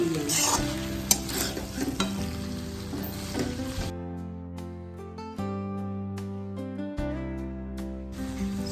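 Hakka noodles are stir-fried in a pan with a loud, close sizzle. A utensil scrapes and clatters against the metal as the noodles are tossed and mixed.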